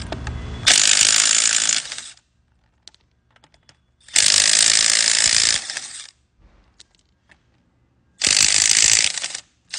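A DeWalt DCF923 3/8-inch stubby cordless impact wrench, fitted with a half-inch socket adapter, loosens car lug nuts in three loud, sustained bursts of rapid hammering, each about one to two seconds, separated by quiet gaps.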